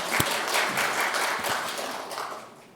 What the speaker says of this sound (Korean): 감사의 박수를 한번 드리죠